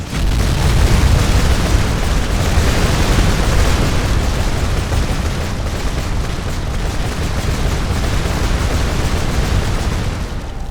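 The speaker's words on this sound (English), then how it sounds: "6 oil spiders and a whole lot of oil met by fire result in this" A chain of fiery explosions from oil spiders set alight in Skyrim, a loud, sustained rolling roar of overlapping blasts and burning that barely eases over about ten seconds.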